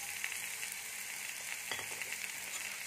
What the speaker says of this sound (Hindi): और कुछ सेकंड फ्राई करेंगे लो फ्लेम पर।